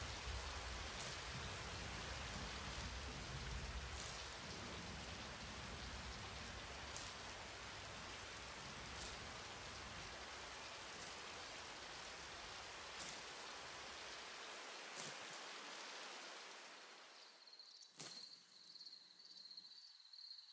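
Rain falls steadily on a farm in the video game Global Farmer, a soft hissing wash with periodic faint taps and crickets, fading near the end into quieter insect chirping and a few sharp ticks.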